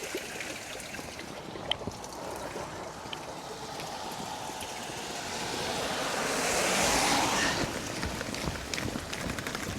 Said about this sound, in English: Just let the water out the hose.